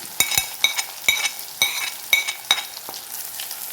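Crushed shallots, garlic and green chilies sautéed in hot oil after mustard seeds splutter, with a utensil clacking and scraping in quick close strokes over a crackling sizzle that fades near the end.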